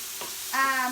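Red onion sizzles in a pan with a soft, steady frying hiss that swells briefly with a tonal squeak from a stirring utensil.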